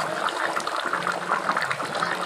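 A curry of katla fish, potol and potato bubbles in a pot, giving a close, steady burbling with small irregular pops and gurgles throughout.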